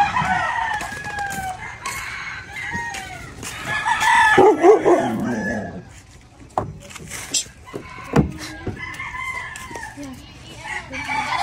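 Chickens cluck and a rooster crows loudly nearby, with bursts of calls and some voices talking in the background.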